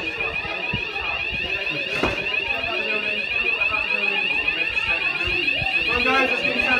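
Tyco fire alarm ringing at a school, a steady piercing electronic tone sounding continuously, with people talking in the background underneath it.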